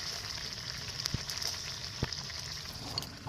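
Chicken kosha frying in a pot over a wood fire, a soft steady sizzle with a few sharp pops and crackles at about one-second intervals, faint and close.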